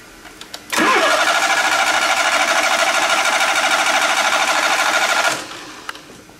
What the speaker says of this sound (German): ihr habt gehört, der Motor startet nicht